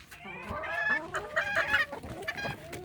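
Small bantam hens cluck and squawk in a quick, fairly loud run of calls, close by with a faint background.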